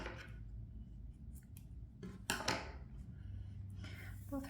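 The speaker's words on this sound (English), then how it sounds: "cut the yarn but leave a longer yarn tail" Scissors snipping yarn during crochet work on a cross-body bag, a couple of quick close snips among soft handling rustles in a quiet room.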